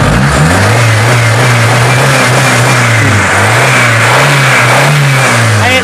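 A 1984-1986 Honda Civic SB4 Wonder sedan engine revs loudly and repeatedly, its pitch rising and falling in several throttle bursts, close by with no talking.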